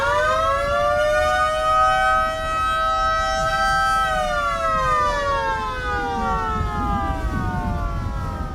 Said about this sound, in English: Warning siren on.